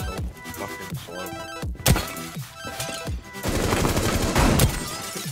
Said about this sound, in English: I'm getting shot through a metal wall